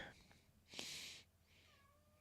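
A house cat meows indoors, one drawn-out, fairly close mew followed by a softer, shorter call, with low background hiss and a small thump at the end.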